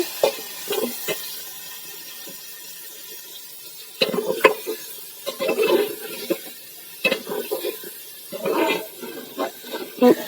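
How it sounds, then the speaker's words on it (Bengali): Ingredients fry in hot oil in a pan while a Bengali vilamb dish is cooked, giving a soft steady sizzle broken by irregular scraping and stirring clatters, with no talk. "এই উপকরণগুলোকে ভালোভাবে নেবে তেলের মধ্যে ভেজে নেবে"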